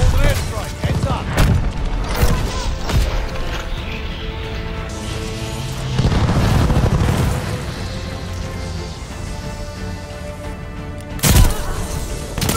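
Airstrike explosions in Call of Duty: Vanguard land as a handful of booming blasts and crashes amid game noise, loud and close, with a heavy rumble near the middle and a final sharp hit.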